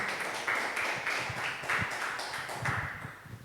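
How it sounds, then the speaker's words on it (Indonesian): A seminar audience claps together in a steady round of applause, a dense continuous patter of hands filling the room at moderate loudness, with no talk over it. "Tepuk tangan dong teman-teman semuanya."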